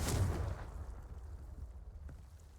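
A Confringo fire spell goes off in Hogwarts Legacy, a single loud fiery blast with a booming low burst at the start that decays into a rumbling tail.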